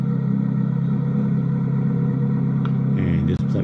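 A 2023 Chevrolet Corvette Z06 rumbling at a dealership reveal as it is offloaded from a truck: a loud, steady low engine drone, with brief clattering knocks near the end.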